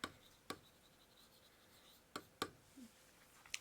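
A word written on a board, heard as a few faint, sharp taps and short scratchy strokes spread unevenly over a few seconds in an otherwise quiet room.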